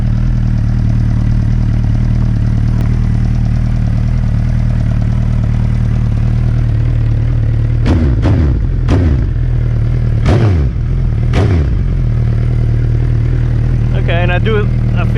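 A 2020 second-generation Suzuki Hayabusa with cheap slip-on exhausts idling loud and close, a deep steady rumble broken by several sharp throttle blips, with a voice briefly heard near the end.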